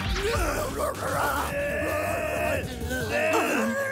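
Cartoon yetis let out loud, drawn-out groaning howls, several overlapping voices wavering continuously over a busy animated soundtrack.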